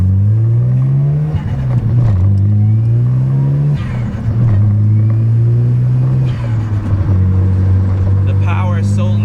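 Twin-turbo right-hand-drive Mazda RX7 rotary engine pulling hard through the gears, its droning note climbing in pitch with each shift, loud and close from inside the car with someone talking over it.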